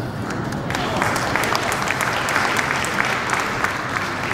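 Audience applause fills an award ceremony for a 2018 sustainable development competition: dense, steady clapping from a large crowd, close and even throughout, with no break.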